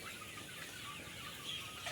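Sonali chickens on a poultry farm cluck softly and continuously, a low murmuring flock sound filling the background without any nearby talk.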